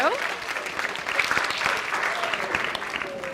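An audience gives steady applause at an evening museum event, dense clapping sustained throughout with some voices mixed in.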